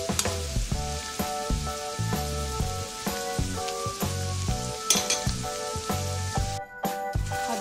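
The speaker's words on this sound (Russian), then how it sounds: "На растительном масле обжариваем лук." Onion fries in vegetable oil, a steady close crackling sizzle punctuated by regular clinks and scrapes of a utensil stirring in the pan, with no talking.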